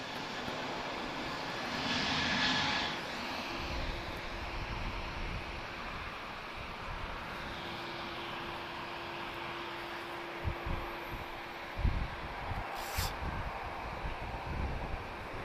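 Boeing 787 Dreamliner jet engines rumble at Lisbon Airport as the aircraft taxis, a steady broad roar with wind-like hiss and a low tone, fairly distant, with no talking.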